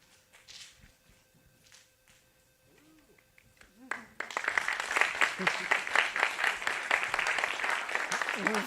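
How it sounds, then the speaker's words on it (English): Audience applause at a CONvergence 2021 wordplay game show: after a few seconds of quiet shuffling and murmurs, dense clapping erupts and stays loud and sustained to the end. "I was going to tell you to hold the applause, but you did that already"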